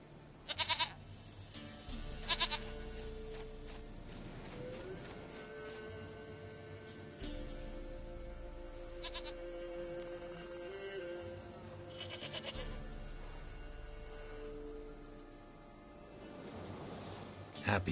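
Goat bleating in The Witcher 3 game world, several loud, wavering cries repeated at intervals over a steady low ambient drone, with a voice speaking in between.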